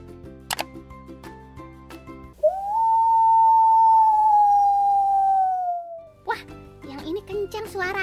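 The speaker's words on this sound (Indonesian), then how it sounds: "Benar, itu adalah suara serigala." A single long animated wolf howl, a steady sustained tone gliding slightly downward for about four seconds, set between bright musical chimes and a voice talking afterward.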